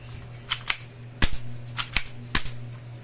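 A silver 1911 airsoft pistol fires pellets in five sharp cracks, close and loud, spaced unevenly across a few seconds over a steady low hum.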